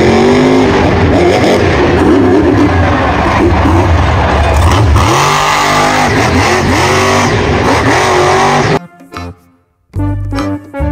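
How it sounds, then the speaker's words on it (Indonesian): A monster truck engine roars loud and steady with repeated revving surges for most of the stretch, then cuts out abruptly near the end before a brief return. "Ini adalah mobil monster,"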